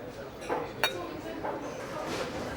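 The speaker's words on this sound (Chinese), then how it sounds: "丽变小姐，干杯！" Drinking glasses clink once, sharp and bright, during a toast at a dinner in a Peranakan Chinese family drama, with voices talking softly around it.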